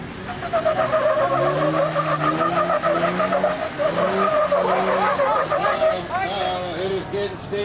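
An off-road Jeep at an off-road games event strains up a steep slope, its engine revving hard with tire squeal and skidding, while a commentator talks throughout.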